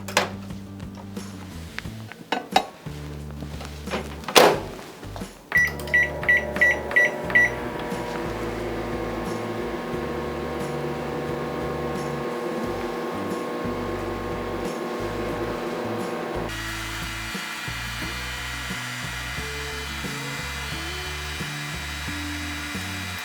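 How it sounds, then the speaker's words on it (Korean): A microwave oven heating a bowl of vinegar water starts with button beeps and clunks, then settles into a loud, steady electric hum that shifts tone partway through and carries on alone. "그릇을 전자레인지에 넣은 뒤 시작 버튼이나 시간 버튼으로 3분을 맞춰"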